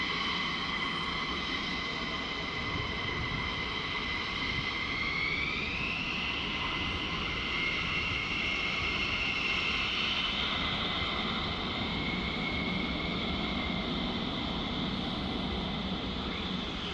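Jet aircraft flying at night near RAF Lakenheath, a steady loud engine roar with a high whine that rises and shifts in pitch as it passes, continuous throughout without voices.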